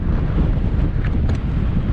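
Strong wind on Grasmoor fell buffets the microphone in a constant, loud roar with low rumbling gusts, no voices.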